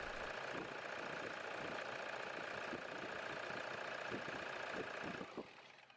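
A Toyota Hilux 3.0-litre D4D diesel engine idles with a steady mechanical clatter and rhythmic knocking, timing cover off after a timing belt change, fairly quiet, before fading at the end.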